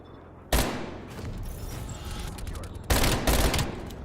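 Loud gunfire bursts from a video game sniping match, with a sharp volley near the start and another heavy burst toward the end over a busy, continuous game-battle background.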